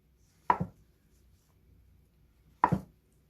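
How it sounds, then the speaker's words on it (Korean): Two separate knife strokes cut through a block of tofu, cutting it into thick slices for tofu kimchi, each a short crisp thud against a cutting board, close and clear, with quiet pauses between them. "그래서 두부김치를 좀 이렇게 두껍게 굵직굵직하게 이렇게 썰겠어요."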